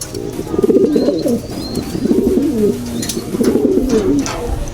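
A racing pigeon, a blue bar bird, coos in repeated soft, throaty phrases, close by, with faint chirps in the background.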